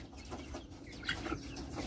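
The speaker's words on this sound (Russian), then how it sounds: "Голодные куры." Hungry chickens cluck and peck at feed during morning feeding, a busy cluster of close, irregular clucks and soft chirps with no talking.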